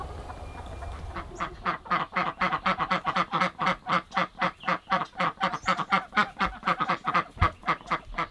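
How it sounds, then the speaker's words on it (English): A flock of ducks on a free-range homestead quacking in a steady, rapid series of loud calls, close by and continuing for several seconds without talk. "the ducks have responded to that quack quack for all of time"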